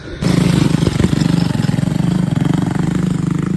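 A motorcycle engine starts up close by on a mountain trail to village plantations in Sukamakmur, Bogor, and runs with a steady, throbbing idle, loud and continuous with no talking.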